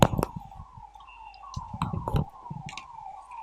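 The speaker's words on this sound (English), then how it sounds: "even that police siren is also looking musical, isn't it?" A police siren wails outside during rain, a faint wavering tone held steadily in the background while scattered clicks and soft knocks sound nearer.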